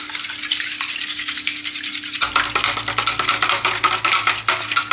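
Cake batter for a Christmas plum cake is beaten by hand in a bowl, giving a steady, close scraping and whisking rhythm that grows busier and denser partway through, with no talking.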